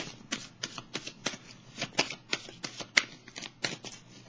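Tarot cards being shuffled and drawn, a quick run of crisp papery riffs and flicks with brief pauses between bursts, close and clear with no talking.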